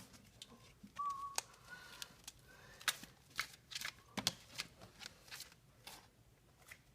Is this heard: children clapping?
no